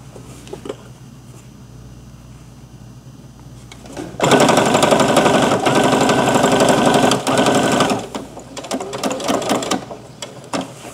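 A sewing machine stitches a rattan cross bag with webbing straps, running in one loud, steady burst of several seconds, with quieter handling noises before and after.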